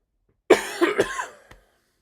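A single bout of coughing, a sharp hacking burst followed by a couple of quicker coughs, close and fairly loud, then quiet.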